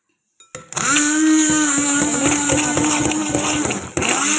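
An electric mixer whirs steadily while blending a strawberry dessert mixture with a glass of fresh Almarai milk. The whine is loud and close, starts abruptly and holds for several seconds with a brief dip near the end.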